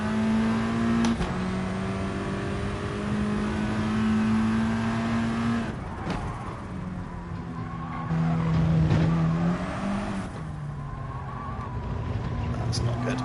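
Race car engine in a racing video game, revving and holding steady tones with gear shifts near 1, 6 and 10 seconds, loud and continuous with tire skids, a voice talking over it.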